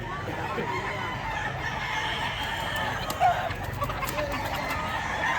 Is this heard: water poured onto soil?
no